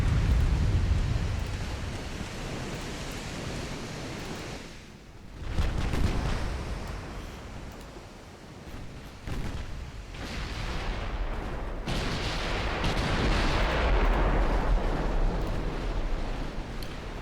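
Heavy naval gunfire from battleships in a video game, French dreadnoughts trading shots: rumbling booms and blasts, loud and continuous, with a sharp impact burst near the middle and a rushing roar toward the end.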